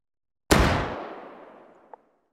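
A single loud shot from an 1860s–1870s .50 black powder rolling block pistol in H3VR, set in a forest, booms once and then tails off in a long fading echo, with a faint click near the end.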